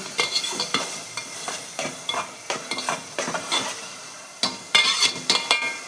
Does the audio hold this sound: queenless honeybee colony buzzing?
no